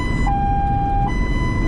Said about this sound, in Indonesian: terus dia membunyikan sirine kencang ini, terus ngebut dia